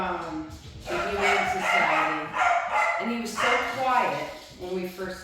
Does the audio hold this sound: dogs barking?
yes